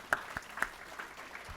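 Scattered applause at a Koch Industries corporate gathering: a few distinct claps and a light patter of hands over a short moment.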